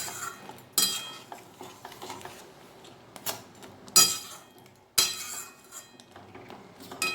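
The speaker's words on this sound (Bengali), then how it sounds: "দিয়ে বেশ খানিকক্ষণ নাড়াচাড়া করে আমি রান্না করে নেবো মাছটা।" A spoon or spatula scrapes and clinks against a pan while prawn curry with fried coconut is stirred, giving irregular knocks and a few sharper metallic hits, close and fairly quiet with no talking.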